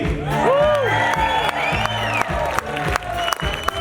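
Shipboard concert crowd applauds and cheers for a performer, loud clapping mixed with whoops and shouting voices, with a few rising whistles over the clamor.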